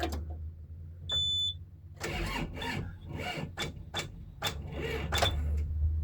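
A Bobcat that has not run for several days cranks on its starter, trying to start, in a series of rhythmic churning bursts after a short beep, never catching, close and fairly loud.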